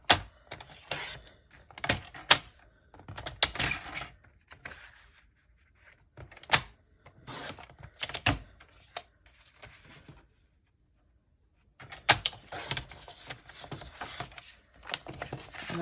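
Paper cards being cut into pieces for junk journaling: a string of sharp, crisp slicing and thudding strokes in uneven bursts, close and fairly loud, with a quiet pause before a final flurry.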